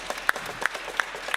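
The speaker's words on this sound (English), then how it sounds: "Just give her a big round of applause." Sparse, scattered claps ring out from a small audience at a jazz vespers service, a few distinct sharp hits spaced roughly a third of a second apart over a soft background.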